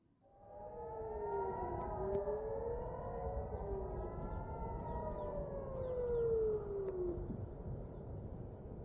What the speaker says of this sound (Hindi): इस हवाले से अब इजराइल के अंदर सायरन भी बजा दी गई है